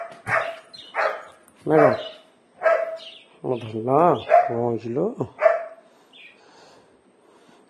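Dog barks in a cluster of about four sharp yelps and barks mid-clip, loud and close, with people talking over and between them in a household setting.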